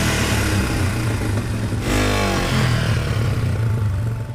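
A 1987 Yamaha TW200 motorcycle is ridden along a road, its single-cylinder engine droning steadily under loud wind rush. A brief shift in pitch comes midway, and the sound is heard close and continuous with no talk.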